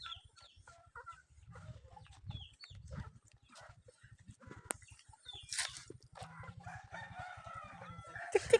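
A fighting rooster crows outdoors amid other fowl clucking and a dog barking, with the calls sounding faint and scattered over a quiet farmyard background.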